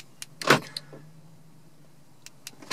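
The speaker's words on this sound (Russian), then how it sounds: "Ну, видно даже, складываются зеркала." The electric side mirrors of a Mercedes ML W164 fold with a short whirring motor burst followed by a fading hum, with a few faint clicks afterward in a quiet setting.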